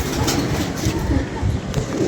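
Pigeons give soft, low, throaty coos close by, a few rounded calls repeating over a steady rumbling background.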